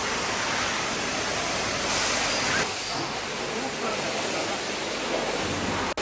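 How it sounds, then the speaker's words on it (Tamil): A high-pressure water jet sprays over a car at a wash, a loud, continuous broadband hiss close by that holds steady for several seconds before cutting off abruptly. "வண்டி ஃபுல்லாக ஃபோர்ஸாக வாட்டர் வாஷ் அடித்தாச்சு"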